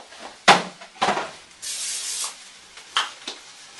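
Cooking spray hisses into a pan in a few short bursts, the first sharp and loud, followed by quieter spritzes and light handling clatter, close up with no talk.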